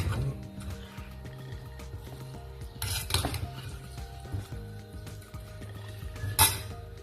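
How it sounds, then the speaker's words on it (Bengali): Vegetarian bottle gourd curry stirred in a pan, with repeated metallic scrapes and clinks of a utensil against the cookware, a couple of louder knocks standing out over a steady low kitchen hum. "আর এখানে আমি লাউয়ের তরকারিটা বানিয়ে নিচ্ছি, নিরামিষ লাউয়ের তরকারি।"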